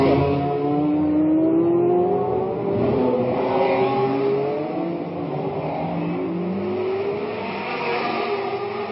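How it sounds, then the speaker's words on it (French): Racing cars at the 1967 Monaco Grand Prix sliding through a corner, a continuous loud blend of revving engines with rising and falling pitch and tire noise, with no talk. "Vous voyez que les voitures dérapent, elles font très attention."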